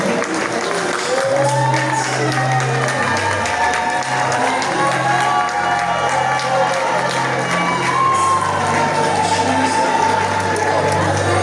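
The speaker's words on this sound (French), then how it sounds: "give the ladies a round of applause" Audience at a Caribbean beauty pageant, Miss Hibiscus, applauding and cheering steadily as a busy crowd roar throughout, with music and a host's voice underneath.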